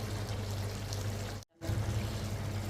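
Clean water is poured into washed rice being prepared for biryani, a steady, close splashing pour that breaks off briefly midway and then resumes just as strongly.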